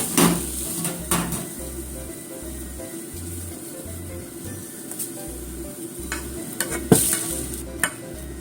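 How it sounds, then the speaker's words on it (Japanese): Cabbage fries in a pan with a steady soft sizzle, broken by a few sharp clicks and clanks from utensils against the pan, and no talking. "裏もね5分くらい焼きましょう"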